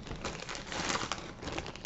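A plastic bag crinkles around a homemade glitter-filled stress ball, a close, continuous rustling and crackling with small irregular bursts, with no voices.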